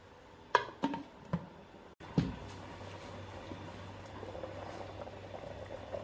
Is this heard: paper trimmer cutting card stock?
no